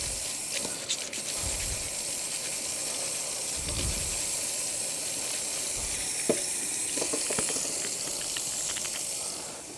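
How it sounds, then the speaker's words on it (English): Steady hiss of running water with occasional soft thumps and scrapes as carrots are scrubbed by hand under a tap. "But I don't want to chew on any dirt, so give them a scrub."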